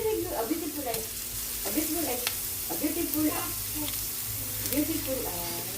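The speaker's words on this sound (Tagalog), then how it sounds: "Lagay na natin yung luya. Lagyan natin yung bawang." Ginger and garlic sizzling in a hot pan, a steady frying hiss with the scrape of stirring coming in short repeated bursts, close by and fairly loud.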